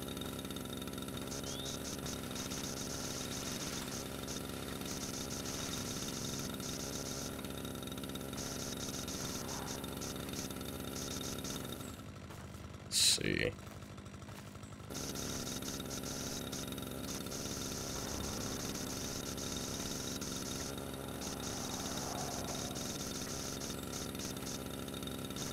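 A motor running overloaded in the Relaxation Simulator video game, a steady mid-level engine drone that holds throughout, cuts out briefly around the middle with a short click, then carries on unchanged.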